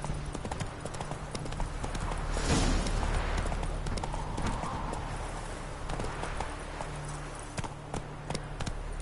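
Horse hooves clip-clop in a steady rhythm while galloping in a PS4 game, loud and close, with a faint voice briefly heard over the pounding.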